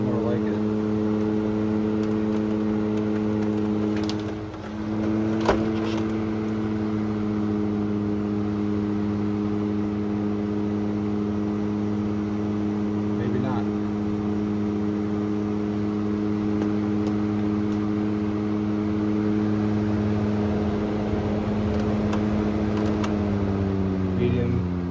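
A 1997 Honeywell HW-612 12-inch reversible window fan runs on high in exhaust mode, giving a steady motor hum with stable tonal bands and a constant airy whoosh, close and continuous with only a brief dip.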